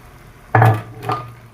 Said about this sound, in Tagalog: Tapos na, lalagyan na natin ng tamarind water.